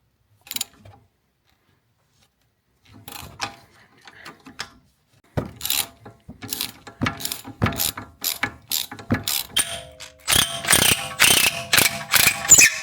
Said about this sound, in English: put the ratchet on here, put this here, and then we can counter